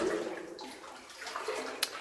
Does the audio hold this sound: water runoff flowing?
yes